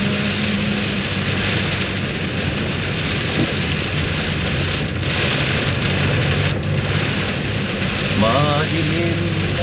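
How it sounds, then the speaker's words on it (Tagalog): Heavy rain pours down steadily on a roadside during a road trip, a dense, loud hiss that continues throughout with a brief faint tonal sound near the end. "ang lakas ng buhos ng ulan"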